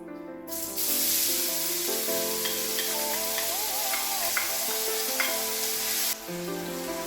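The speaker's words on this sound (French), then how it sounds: "Je suis en train de tourner mes oignons." Onions sizzle steadily in hot olive oil in a pan for paella while being stirred, a dense, continuous frying hiss with occasional light scraping, close and loud, with faint tones in the background.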